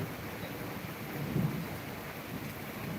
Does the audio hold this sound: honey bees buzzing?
no